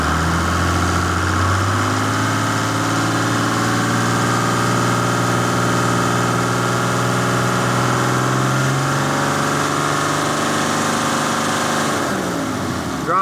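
A Dodge Cummins 5.9 diesel engine idles steadily and close up, its low, even rumble continuous and alone, with a slight shift in pitch partway through.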